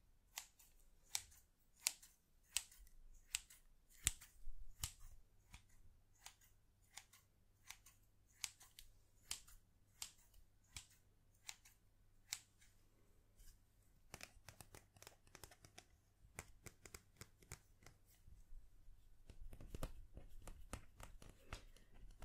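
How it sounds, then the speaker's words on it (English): Close, quiet scissor snips in an ASMR setting sound as a string of crisp, separate clicks spaced irregularly, with faint crinkling between cuts and a slightly busier stretch near the end. "Students, please show me your scissors."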